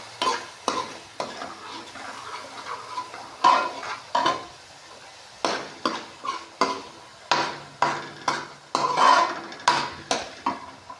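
Masala spices frying for a potato and soybean curry, with a steady sizzle under repeated scraping and stirring strokes of a utensil against the pan, close and fairly loud.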